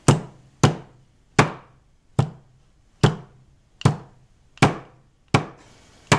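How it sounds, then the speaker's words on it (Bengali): Meat flattened for hari kebab with a tenderizing hammer on a board: eight sharp, evenly spaced thuds about one per second, close and loud, each ringing briefly before the next blow, with no talking. "মাংসটা বেশি ছেঁচা হবে না, জাস্ট একটা করে মাঝখানে বাড়ি দিব।"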